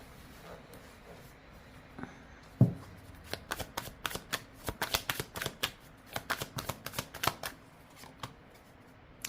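Tarot cards being shuffled by hand, a soft thump followed by a rapid run of crisp riffling flicks and slaps, close and fairly quiet with no talking.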